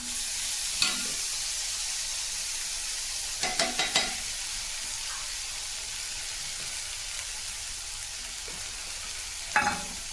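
Moth bean dal frying in oil with chilies in a pan for a Marathi dill greens dish, a steady soft sizzle broken by a few sharp stirring clatters, close and alone.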